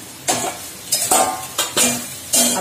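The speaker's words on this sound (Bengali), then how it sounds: "তাও আমি ট্যাংরা মাছগুলো এর মধ্যে অ্যাড করে দিলাম।" Tengra fish go into hot sizzling masala in a pan, making four sharp bursts of frying hiss close by, with a utensil clinking and stirring between them.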